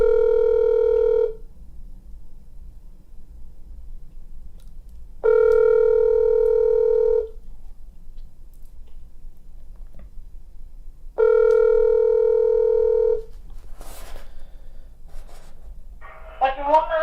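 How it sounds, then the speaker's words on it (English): Three long steady ringback tones of an outgoing telephone call, each lasting about two seconds with pauses between, clear and close over a faint low hum; brief noises and a short voice come in near the end. "So let's do one more follow-up phone call."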